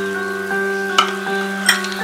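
A teaspoon of ghee sizzles in a thickening amla (Indian gooseberry) candy mixture as it is stirred, a steady close hiss broken by two sharp scraping clicks of the spoon, with no voices.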